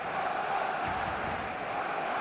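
A steady wash of stadium crowd noise fills an eFootball match before kickoff. The roar is dense and continuous at a moderate level, with no single voice standing out.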